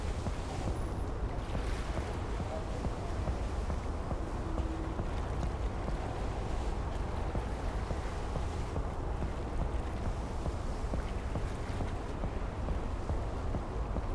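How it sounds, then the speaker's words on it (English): A ship in the Seafarer: The Ship Sim video game produces a continuous rushing wash of ocean waves and wind over a low engine rumble. The sound is steady with no pauses, and no voices are heard. "Just ocean noises which is probably not too bad. Ocean and engine sounds."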